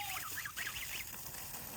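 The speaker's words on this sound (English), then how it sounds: "Oh, baby geese." Baby geese honk in a quick series of about five faint, short calls, a little distant against a low outdoor background.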